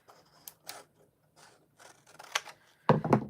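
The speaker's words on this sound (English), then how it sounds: "we're going to have to cut off just part of the side here so that we can get in" Cutting away part of the side of a cabochon craft piece so a punch can fit in, heard as several sharp, crisp snips and clicks that grow louder toward the end, close by and with no talking.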